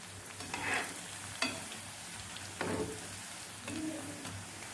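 Cauliflower pakoda pieces coated in rice-flour batter fry in hot oil with a faint, steady bubbling sizzle and a few soft bursts as pieces drop in or are moved around.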